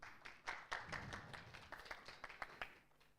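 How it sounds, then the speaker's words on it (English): Scattered clapping at a formal academic dialogue event as a guest, Colonel Dr. Ajay Malik, is called to the dais; fairly faint, separate claps thinning out toward the end. "big round of applause for sir."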